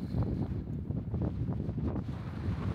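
Strong wind buffets the microphone on a hike in Iceland, a loud, gusty low roar that rises and falls continuously while walking downhill into the wind.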